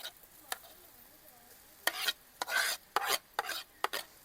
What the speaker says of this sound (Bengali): এইবার দিয়ে দেব মাখিয়ে রাখা আলু।